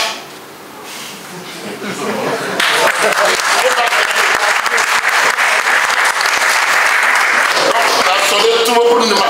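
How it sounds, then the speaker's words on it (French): Crowd applause and cheering swell at a PDCI-RDA political rally, starting faint then rising to loud, sustained clapping with shouts mixed in, while a speaker's voice carries in the opening seconds. "Bon, applaudissez pour moi. Pour moi aussi."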